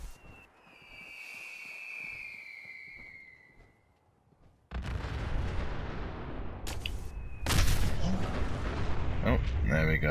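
Mini MIRV Plasma Cannon blasts in Fallout 4: after a rising high whine and a brief hush, a loud, sustained rumble of explosions rolls in, with a heavier burst of blasts joining near the end.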